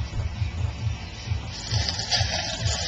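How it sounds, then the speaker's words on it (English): Liquid nitrous oxide pours into a cup with a rushing, gushing hiss, accompanied by a steady low pulsing throb that grows louder and brighter about halfway through. "Let me see if I can pour it into this cup"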